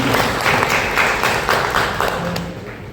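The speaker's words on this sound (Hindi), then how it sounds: "जोरदार तालियां बजाकर स्वागत है" A crowd at a district Congress committee press conference in Nagaur claps steadily in sustained applause, dense and fairly loud, tapering slightly toward the end.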